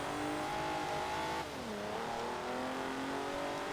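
Vauxhall Lotus Carlton engine in Forza Horizon 4, a steady, fairly quiet engine drone whose pitch dips sharply midway, like a gear change, then settles into a lower, even hum.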